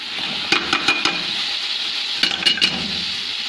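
Lentils are stirred in a hot pan, steady sizzling frying with several sharp spoon scrapes and clinks against the metal, close and fairly loud, no voices.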